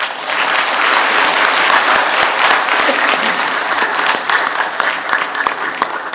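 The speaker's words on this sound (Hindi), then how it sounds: "तालियां बजा लीजिए।" A live audience applauds steadily during a talk by a senior RSS pracharak, a dense, continuous patter of many hands at full strength throughout, easing off slightly toward the end.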